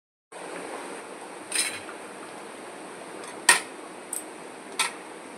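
Stuffed pointed gourds drop into a pan of coconut-milk gravy on a kitchen stove, giving a few short metallic clinks and clatters spaced over several seconds against a soft steady background.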